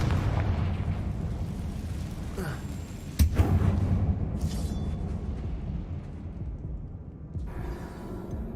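A Confringo fire spell from Hogwarts Legacy detonates with a sharp blast about a third of the way in, over a steady dense rumble of game background sound, with a brief burst of noise after.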